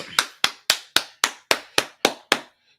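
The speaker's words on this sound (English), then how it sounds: "Clap it up, clap it up, clap it up" Audience applause at a class meeting, heard as nine sharp, evenly spaced claps or strikes with clean decays, fairly loud and close, with no voices.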